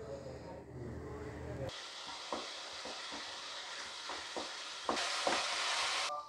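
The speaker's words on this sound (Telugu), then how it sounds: "ఇందులో 1 టేబుల్ స్పూన్ అల్లం వెల్లుల్లి పేస్ట్ వేసి పచ్చివాసన పోయే వరకు ఫ్రై చేసుకోవాలి." Onions sizzle and fry in a pan with ginger garlic paste while being stirred for a stuffed brinjal curry, a steady close hiss with a louder burst of sizzling near the end and scraping stirs throughout.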